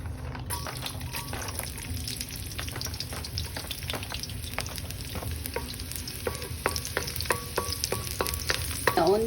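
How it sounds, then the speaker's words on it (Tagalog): Garlic sautés in a pan as the first step of pork ribs caldereta, with a steady close sizzle and frequent light taps and scrapes of a utensil stirring. No one speaks. "saute the garlic"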